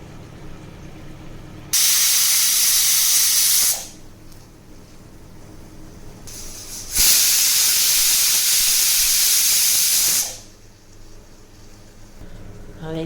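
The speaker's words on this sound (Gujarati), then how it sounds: "હવે આપણે કુકર બંધ કરીને 2 થી 3 વિસલ વગાડશું." A pressure cooker on the stove blasts two long, loud bursts of hissing steam whistle, each lasting a few seconds, with quieter hiss between them.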